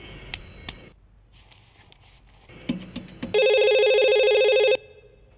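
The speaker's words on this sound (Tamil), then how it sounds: "2 ரிங் ஆகுது, எடுத்தா கட் ஆகுது" A telephone rings in a Tamil comedy scene: a few sharp electronic blips and clicks precede a loud, steady ringing tone lasting over a second, then it cuts off abruptly.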